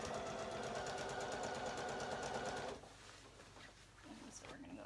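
Sewing machine stitches along a waistband seam with the presser foot guided against it, a steady close whir for a few seconds that stops abruptly, followed by quieter room sounds.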